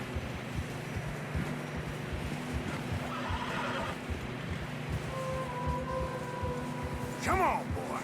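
Horse neighing and whinnying from Red Dead Redemption 2 on a snowy mountain trail, with steady hoofbeats underneath, a sharp whinny near the end, and a voice talking over it.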